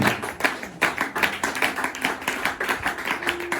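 Congregation at a church seminary service clapping together in acclaim of Jesus, a steady rhythmic run of claps over about four seconds, fairly loud and close, with no talking.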